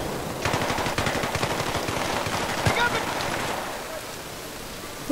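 Rapid automatic gunfire from Battlefield 3 gameplay, a rifle with extended magazines and a red dot sight, crackling in dense fast bursts through most of the stretch, with a voice talking over it.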